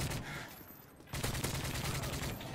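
Rapid automatic gunfire rattles in a Modern Warfare 3 multiplayer match on the Terminal map. It is dense and continuous, dips briefly, then surges louder again, heard through the game audio.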